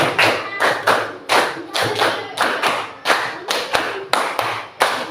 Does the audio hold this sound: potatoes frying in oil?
no